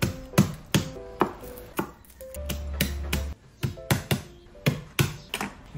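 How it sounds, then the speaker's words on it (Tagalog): Garlic being sliced with a knife on a cutting board: a series of sharp, close knocks in an uneven rhythm, some quick pairs and some spaced apart, with no talking. "Okay, slice na natin ang bawang. So maraming bawang."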